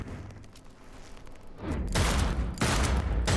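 Rapid bursts of gunfire from a gun in Cyberpunk 2077 erupt loud and close after a quieter rumbling stretch, with two dense volleys in quick succession.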